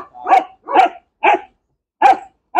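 A dog in guard training gives five loud, close, threatening barks at a steady pace, each a short gruff burst with silence between.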